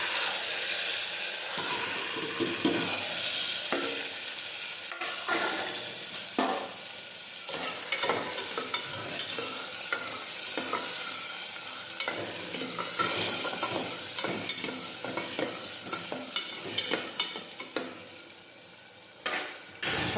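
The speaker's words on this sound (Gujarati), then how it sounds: "સમારેલા કાંદા અને ટમેટા નાખીશું" Chopped onions and tomatoes fry in hot oil with mustard seeds, cumin and asafoetida, giving a continuous sizzling hiss with frequent stirring scrapes and clinks of a spoon against the pan, close and steady throughout.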